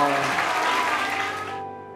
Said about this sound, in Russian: слышу громкие аплодисменты от тех людей, которые искренне любят и поддерживают меня